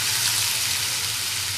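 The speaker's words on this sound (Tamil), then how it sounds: "எண்ணெய் காஞ்சிருச்சு. நம்ம கட் பண்ணி வச்சிருக்கிற வெங்காயத்தை அதில் சேர்த்துக்கலாம்." Chopped onions hit hot oil and fry with a dense, even hiss that stays loud and close for the whole moment.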